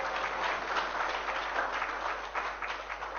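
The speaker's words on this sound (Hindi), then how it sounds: "तालियां तो बड़ी जोर से बजा रहे" Loud audience applause at a Hindi religious discourse, a dense, continuous roar of clapping from a large crowd with no voices over it.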